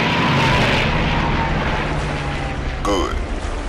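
A steady, loud airplane engine drone from the Iron Wings video game on Nintendo Switch fills the clip, with a brief chirping radio or effect sound near the end.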